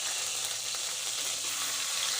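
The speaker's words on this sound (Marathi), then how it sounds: "आता गरम तेलामध्ये एक छोटा चम्मच अद्रक लसणाची पेस्ट आपण टाकूया" Ginger garlic paste and freshly ground masala paste sizzle in hot oil in a pan for a white pea curry, a steady close frying hiss throughout with no talking.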